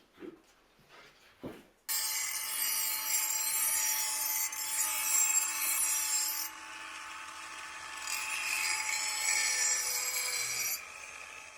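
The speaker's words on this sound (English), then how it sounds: "Would you take this and grind like an 1/8 inch from each side off, please?" Grinder taking an eighth inch off each side of a paddle: after a few soft knocks, a steady loud whine with a rasping edge runs continuously for nearly ten seconds, shifting slightly in pitch as the pressure changes.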